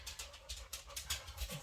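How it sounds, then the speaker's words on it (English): A pet dog walks close by, its soft breathy panting and light shuffling steps making a faint, rhythmic rustle in a quiet indoor room. "my dog's walking behind me"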